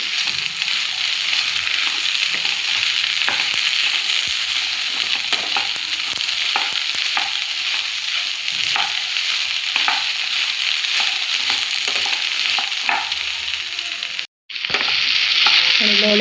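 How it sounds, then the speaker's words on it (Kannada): Sliced okra (ladies finger) frying and being stirred in a pan for bendekai gojju, a steady loud sizzle with scraping stirs throughout, then a brief cutoff near the end before the sizzle resumes. "ಹುರಿತಾ ಇತ್ತು."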